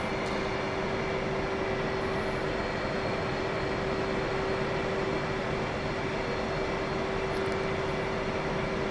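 A flight simulator airliner taxis along the runway, its engines making a constant steady hum with a sustained tonal whine on top, unbroken and without speech.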